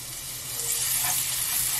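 Minced garlic hits about a spoonful of hot cooking oil in a pan while making spicy tofu duruchigi, giving a close, steady sizzle for under two seconds.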